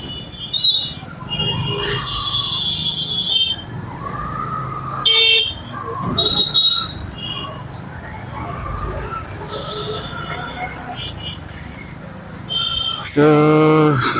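Busy road traffic where rickshaws and cars overtake one another, a steady rumble of engines with scattered short honks and a loud, sustained horn blast near the end.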